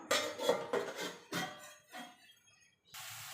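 A metal lid set onto a pan of cooking bottle gourd greens, several close clanks and clinks of metal on metal, followed by a soft steady hiss.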